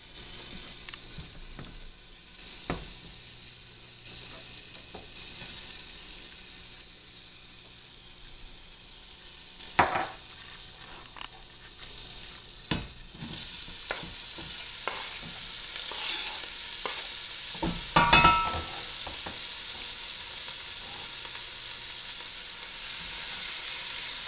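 Leeks, garlic and potatoes cooking in melted butter in a pot make a constant close hiss, broken by occasional spoon scrapes and clatters as they are stirred, building slightly louder toward the end; no one speaks.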